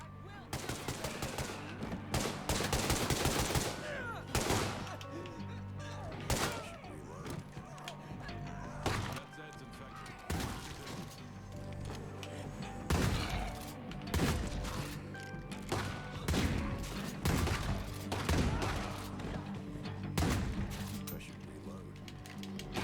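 Gunfire in the State of Decay 2 video game, repeated bursts and single shots cracking out irregularly over a low background drone, with bursts of louder rapid fire early on.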